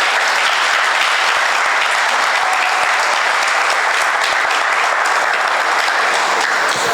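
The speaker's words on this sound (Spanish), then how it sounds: "Yo quiero dar un fuerte aplauso al Espíritu Santo." A church congregation breaks into loud, sustained applause honoring the Holy Spirit, a dense wash of many hands clapping steadily at close range for the whole stretch, with no talk over it.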